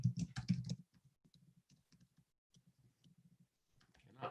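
Fingers tap a computer keyboard in short bursts of quick clicking keystrokes, close and fairly quiet, with a louder flurry at the start and end and lighter scattered taps between.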